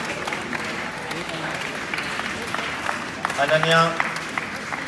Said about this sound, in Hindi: आपका स्वागत कर रहे हैं तालियों की गड़गड़ाहट से।